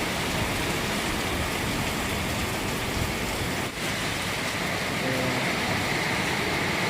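Heavy rain pours steadily over a village, a dense, unbroken hiss of drops on surfaces that stays loud and even throughout with no voices.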